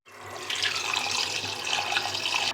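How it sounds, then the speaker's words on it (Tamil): Plain tap water gushes steadily into a sink as raw chicken pieces cut for biryani are rinsed, a loud, continuous splashing rush with no voices. "நான் சாதா தண்ணி வச்சு கழுவிக்கிறேன்."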